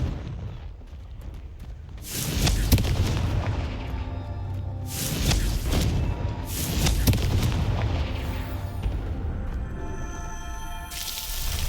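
Confringo fire spell blasts in Hogwarts Legacy, a series of heavy booming explosions with rumbling tails rolling over one another across the scene, loud and continuous in game combat.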